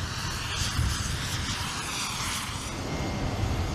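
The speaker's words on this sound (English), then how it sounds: "the C-17 Globemaster is one of the most important planes in the United States Air Force fleet" A massive C-17 Globemaster military cargo plane of the United States Air Force roars steadily, a loud continuous broadband engine rumble with no pauses and no voices.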